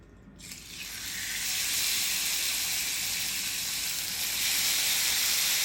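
A cod fillet laid into a hot pan starts frying, rising within a second into a loud, steady sizzle and hiss that holds close and continuous, with no voices.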